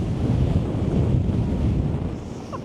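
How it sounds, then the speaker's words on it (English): Strong wind on a hilltop at Glastonbury Tor buffets the microphone in a continuous low roar, gusting steadily throughout with no voices. "It is so windy up here."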